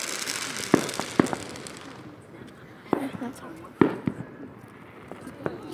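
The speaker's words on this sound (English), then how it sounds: "Fireworks time. It's everywhere." Fourth of July fireworks going off in the distance, a scattering of sharp bangs and crackling pops at irregular intervals over a quiet outdoor background.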